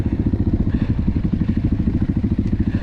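A KAYA 612 motorcycle running while being ridden, its engine giving a loud, close, steady low throb with a fast regular pulse and mechanical clatter on top, heard alone without talk.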